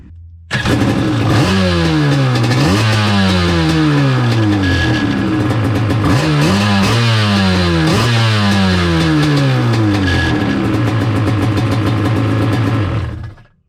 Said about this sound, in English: This ski starts up and it runs, and it seems just fine.